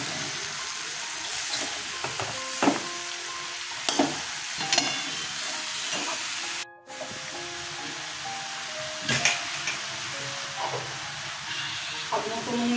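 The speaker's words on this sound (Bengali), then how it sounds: "মশলাটা কষানো হয়ে গেছে, বেগুনগুলো ছেড়ে দেব।" Eggplant frying in spiced masala for a Bengali eggplant-and-prawn dish, with a continuous pan sizzle and repeated scraping strokes of a spatula stirring, plus a brief silent gap midway.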